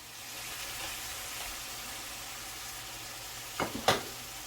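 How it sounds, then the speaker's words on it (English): Butter melting with sausage in a pan gives a quiet, steady sizzle throughout, ending with a couple of short scrapes or clinks close by. "Now that our butter is melted, we're going to add our veggies."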